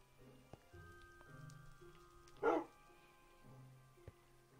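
A dog gives one short, loud bark midway through a quiet indoor room, with faint background tones and a couple of small knocks around it.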